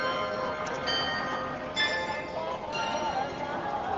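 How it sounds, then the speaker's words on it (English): Bells ring out from a nearby church in Hong Kong during a street protest, bright metallic tones chiming in a few separate bursts over a constant murmur of crowd noise. "We hear the bells because we are near a church right now."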